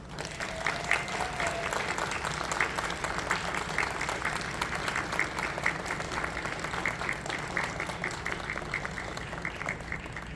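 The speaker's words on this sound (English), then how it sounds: "a round of applause for all our volunteers, panelists, and supporters" Sustained audience applause at the close of the Anthro Northwest 2024 staff awards ceremony, honoring volunteers, panelists and supporters, a dense, steady wash of many hands clapping for about ten seconds with no break.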